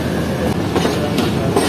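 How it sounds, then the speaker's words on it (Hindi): A passenger express train pulls away and picks up speed on the railway line, giving a steady, loud rumble of wheels on track with faint rhythmic clatter and no voices. "ट्रेन एक्सीलरेट करना शुरू करेगी।"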